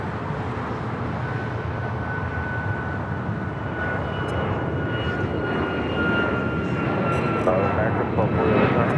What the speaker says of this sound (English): It's the flight heading to Honolulu, a 737 MAX 9.